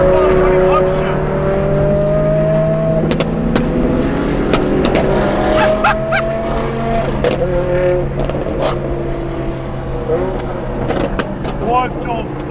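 A car firing pops and flame bursts on upshifts, heard as sharp cracks over a steady engine drone and shifting whine, with people talking excitedly throughout.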